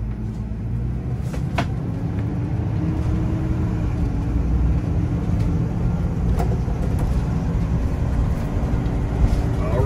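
An RV on a road test drive gives off a steady low engine and road rumble throughout, with occasional faint knocks and rattles from inside the cabin.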